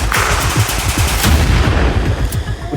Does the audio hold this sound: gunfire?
yes